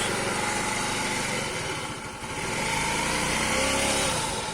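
A small Moto Gusto Rapid motorcycle engine, freshly rebuilt, runs steadily at high revs with a buzzy, even drone, dipping briefly midway before settling back.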